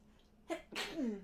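A single sneeze, sharp and close, with a short intake before the burst, in a quiet room.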